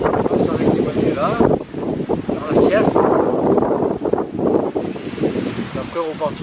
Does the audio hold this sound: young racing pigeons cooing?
no